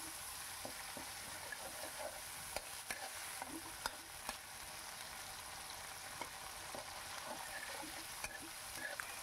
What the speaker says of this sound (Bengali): আদা বাটাটা দিয়ে আমি আবার ভালো করে একটু নাড়িয়ে চাড়িয়ে নিচ্ছি